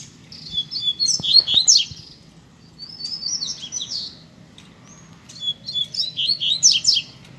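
A caged papa-capim bird calls in three bursts of quick, bright chirps and twittering trills, with short pauses between them. The calls sound close and clear over a quiet low background hum.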